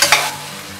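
Tomatoes and onions fry in a pan, opening with two quick stirring scrapes that give way to a soft continuous sizzle.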